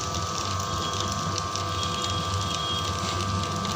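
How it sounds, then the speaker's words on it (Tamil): Wet grinder grinding soaked chickpeas into dosa batter, a continuous close mechanical whirr with a steady hum and rough grinding texture, alone without talk. "கிரைண்டரில் அரைஞ்சிட்டு இருக்குது இங்கே பாருங்கள் சூப்பராக அரையுது பாருங்கள்"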